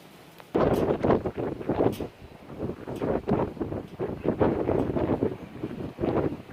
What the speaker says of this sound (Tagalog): Talagang napakalakas ng hangin, oh.